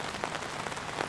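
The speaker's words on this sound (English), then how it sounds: "So, as you can see, it's raining." Steady rain falls outdoors on a garden of plants, a dense continuous patter of drops on surfaces with a few slightly louder splashes, fairly soft and without any voices.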